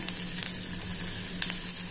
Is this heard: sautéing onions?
yes